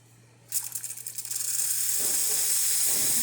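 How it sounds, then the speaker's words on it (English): After a brief spluttering start, the steam wand of a freshly serviced Rocket R58 espresso machine hisses loudly and steadily, a close, continuous high rush. "Very nice strong steam"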